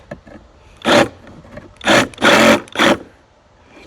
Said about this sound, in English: We'll get a sawzall going